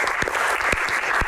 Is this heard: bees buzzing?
no